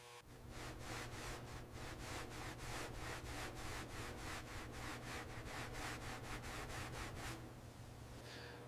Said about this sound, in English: This is the final buffing pass, removing any micro scratches from the rust removal and bodywork.